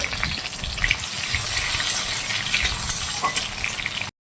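Ginger, chopped tomato and two whole chillies hit hot oil in a pan, giving a loud, steady hissing sizzle with small crackles that stops abruptly.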